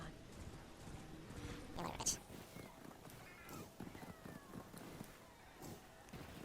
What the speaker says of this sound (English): Get on a horse and head